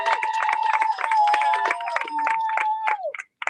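A crowd at a community rally claps and cheers briefly, a modest round of applause with whoops and mixed voices, fairly close and lively before cutting off abruptly.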